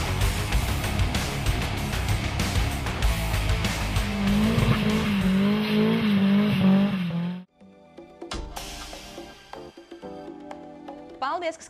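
Drift show cars scream and skid at a motorsport event, tires squealing in long wavering bursts over roaring engines, then a sudden drop to quieter crowd and car noise with a voice speaking.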